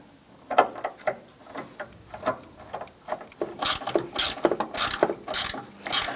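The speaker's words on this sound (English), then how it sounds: "I'm going to use extensions in a socket to help line this up" A ratchet with socket extensions tightens a bolt on a power steering pressure line fitting of a 2005-2007 Ford Five Hundred, giving quick clicking pawl bursts in irregular runs, close and distinct, with no talk.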